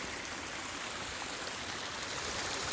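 The North Fork of the San Jacinto River flowing in the high country in May: a dense, steady rush of moving water, close and continuous, with no voices.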